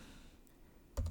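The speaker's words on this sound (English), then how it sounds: "You could find these here on the left by typing in" A computer keyboard typed on while setting up a trading platform, mostly quiet then a short cluster of close key clicks near the end.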